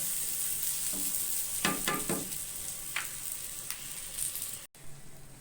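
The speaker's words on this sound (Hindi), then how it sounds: "तेल गरम था तो इसलिए जैसे ही हमने जितनी भी ये जो है राई दाना वगैरह डाला, देखिए वो फट गया है" Mustard seeds and raw mango pickle sauté in hot oil with a steady hiss, a cluster of sharp popping crackles in the middle, then continued soft sizzling with one brief gap.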